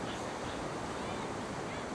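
Ocean waves wash ashore at Hat Meng beach in Thailand during the rainy season, a constant rushing surf mixed with wind buffeting the microphone, with no voices.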